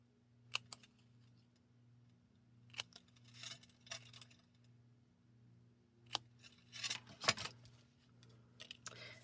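Paper scissors snip a fishtail end into a strip of craft paper, a few sharp separate cuts and then a quick cluster of snips close to the microphone over a faint steady hum.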